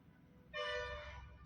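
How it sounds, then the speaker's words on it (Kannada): A bus sounds its horn on a road beside a wild elephant in Dandeli, one loud sustained honk starting abruptly and holding for about a second over low engine rumble, fairly close. "ಓಹೋ ಹಾರ್ನ್ ಮಾಡೋದಲ್ಲ."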